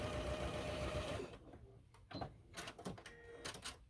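A sewing machine stitching a quilt block runs steadily and loudly for just over a second, then stops, leaving faint clicks and handling sounds.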